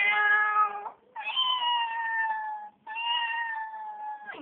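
A cat meows three times in long, drawn-out, complaining cries, close and loud, with brief pauses between them.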